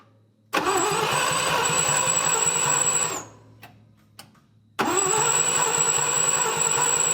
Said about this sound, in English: with the new starter in place and it's still not firing up